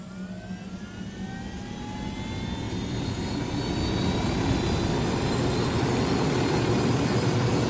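Aircraft engine drones steadily in flight in Ghost Recon Wildlands, a continuous broadband roar that swells slightly and holds loud, with faint rising whine tones, no talk.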